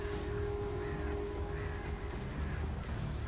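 Crow cawing in the video game Alan Wake Remastered, harsh calls set within a dense, steady bed of game ambience and low rumble, with no talk.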